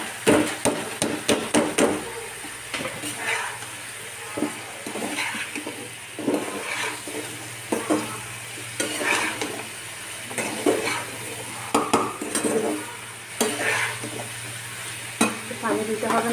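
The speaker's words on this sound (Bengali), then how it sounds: "এটা আরও কষানো হোক, তারপরে" Chicken bones with spices sautéing in a pot, a continuous close sizzle broken by repeated scraping and stirring strokes of a utensil at an uneven rhythm.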